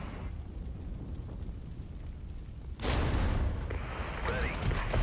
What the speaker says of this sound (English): Big hits. Got those mortars.